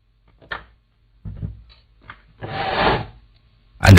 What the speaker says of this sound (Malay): bunyi sirik kerusi itu datang daripada dalam rumah kakak sendiri, Casey.